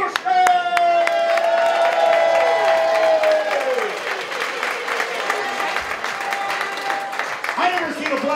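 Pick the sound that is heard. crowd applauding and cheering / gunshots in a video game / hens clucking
crowd applauding and cheering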